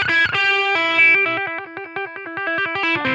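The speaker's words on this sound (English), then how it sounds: "he's got quite a distorted sound or overdriven sound." Distorted, overdriven electric guitar pushed hard through a tube amplifier in a 1970 live Tanglewood solo, a loud run of rapid sustained notes with thick harmonic crunch and no talking.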